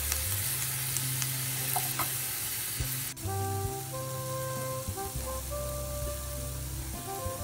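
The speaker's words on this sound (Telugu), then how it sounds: "ఆనియన్ ఫ్రై చేసిన తర్వాత కట్ చేసిన క్యాప్సికమ్ ముక్కలు వేసుకొని బాగా అంతా మిక్స్ చేసుకోండి." Capsicum pieces stir-fried with onions in hot oil for a soya chunk curry: a steady, close sizzle and crackle with occasional stirring scrapes, and faint tonal hums in the background.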